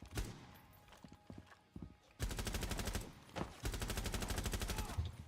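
Automatic gunfire in a video game, two rapid bursts of evenly spaced shots after a few scattered single reports, loud and close with no talking.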